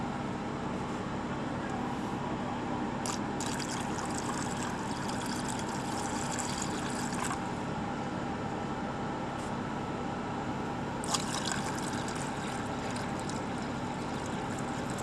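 Water is poured into a clunker car's engine, making a steady, rushing gurgle that stays even and close for the whole stretch, with occasional brighter splashy bursts.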